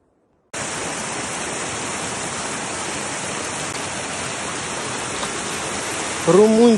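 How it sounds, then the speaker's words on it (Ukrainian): A river flows steadily in a broad, loud rush of water that fills the whole stretch without a break, and a voice cuts in briefly at the very end. "річка."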